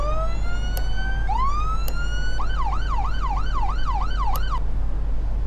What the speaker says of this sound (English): I couldn't get the siren to go off.